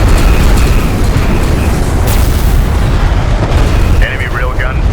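Weapons fire and explosions roar in the sci-fi strategy game Homeworld: Deserts of Kharak, a loud, dense rumble of blasts throughout, with a radio-style voice breaking in near the end.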